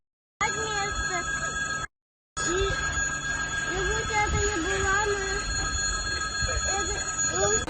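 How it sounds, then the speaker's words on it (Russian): A passenger train in the Volgograd region makes noise with squealing wheels and a continuous rumble, loud and close, with a brief cut near the start and voices underneath. "И вот наш поезд."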